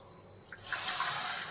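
Water poured into sugar in a pan to make syrup, a short soft splash and trickle that starts about halfway through and runs to the end.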